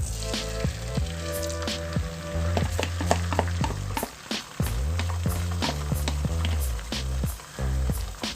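Eggs frying in hot oil in a pan, the first stage of a scrambled egg for chicken fried rice made with brown rice and barley. A loud, close sizzle plays under background music with repeated beats.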